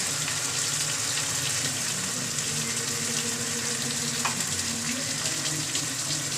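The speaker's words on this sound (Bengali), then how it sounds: "টমেটো কুচিটা দিয়ে দেয়া হলো এবার এটাকে একটু কষাতে হবে" Green chilli and cumin paste with chopped tomato sizzling in hot oil for a koi fish curry, a steady close frying hiss with occasional stirring scrapes throughout.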